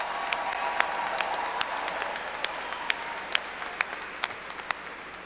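Commencement crowd applauding a graduating university class, a steady moderate wash of clapping with sharp, regularly spaced individual claps standing out near the front, fairly even and unaccompanied by talk.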